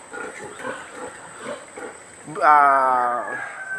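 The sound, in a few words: newborn piglets grunting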